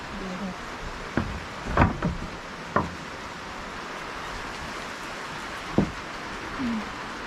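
Heavy rain pours during a storm as a steady, dense hiss, with a few sharp knocks and bumps standing out above the downpour.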